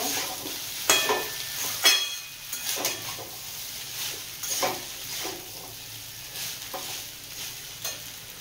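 Egg chowmein noodles being stirred and tossed in a hot frying pan, a steady sizzle broken by repeated scraping strokes of the utensil against the pan at close range, with no talking.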